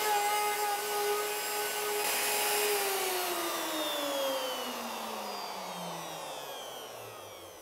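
A wood router, used to cut door hinge mortises, winds down after being switched off; its whine slides steadily lower in pitch over several seconds, fading as the bit stops spinning.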